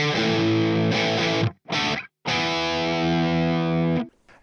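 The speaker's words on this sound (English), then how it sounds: "on with the tones with no effects applied to the amp at all. All we've got right now is just the raw amp." Raw distorted electric guitar through a Marshall JCM 800 amp with no effects, loud sustained chords in two short bursts and a longer ringing phrase, with brief gaps of silence between.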